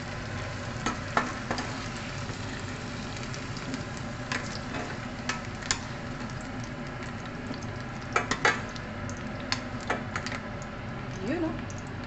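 Chicken frying in a pan gives a steady, close sizzle with scattered crackles and light scraping or stirring clicks throughout.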